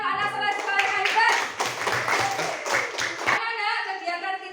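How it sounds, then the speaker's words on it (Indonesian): Schoolchildren in a classroom clap their hands together in a burst of rhythmic claps, with children's voices calling out and chattering over and around the clapping. "Tepuk tangan, anak sekolah hebat."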